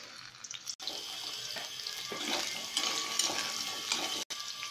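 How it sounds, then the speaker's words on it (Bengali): Boiled potatoes frying in hot oil in a wok give off a steady, close, hissing sizzle that runs continuously with slight swells and no talking. "আলুটা আমি একটু ভাজি নেব।"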